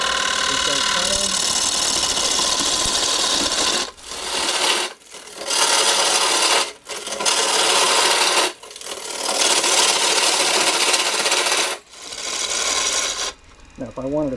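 A spindle gouge cutting wood on a turning lathe, producing a loud, continuous rasping shear over the motor's hum in long passes, broken by short pauses where the tool lifts off.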